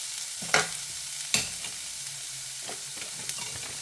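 Mango ginger pieces sizzle in a hot pan for pickle, a steady frying hiss punctuated by a few sharp scraping stirs.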